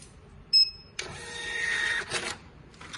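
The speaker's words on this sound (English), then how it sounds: "The first step is print the self-test paper to check original IP address." An inkjet-style printer running a self-test page: a short electronic beep, then a steady mechanical whir and feed noise of the print head for over a second, ending with a brief paper-ejecting rustle, close and fairly loud.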